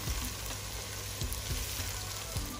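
Ginger and garlic sizzle steadily in a pan for a beans stew, a loud continuous frying hiss with a few soft stirring knocks underneath.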